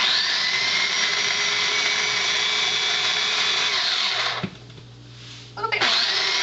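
A blender whizzes tomato soup in a loud, steady high-pitched whir, then drops to a lower drone for about a second before revving back up.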